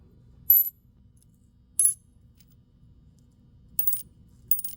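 Silver coins clink in four short, bright metallic taps spaced apart, the first two single and the later ones slightly rattling, over a faint low background hum.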